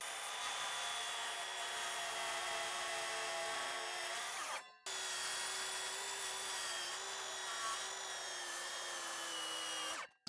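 A power saw cutting a wooden rafter board along a marked angle, a loud sustained whine in two long passes separated by a brief stop, close and alone with no voices.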